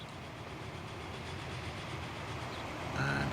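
Train in the Transport Fever game pulling away, a steady rumbling rail-and-engine drone that holds level, then swells slightly toward the end with a brief tonal whistle-like note.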